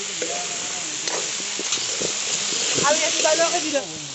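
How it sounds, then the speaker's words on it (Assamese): Potatoes fry in a pan with a steady, close sizzle and hiss, a few light stirring clicks breaking through, while people talk intermittently over the cooking. "আমাৰ আলু ভাজি আছে"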